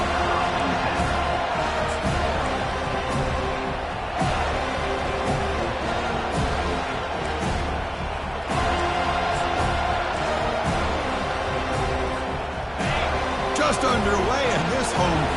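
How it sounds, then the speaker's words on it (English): Home crowd at a college football game roars and cheers in a broad, sustained din, with a play-by-play announcer talking over the noise throughout. "this home crowd is fired up and ready to make a difference today"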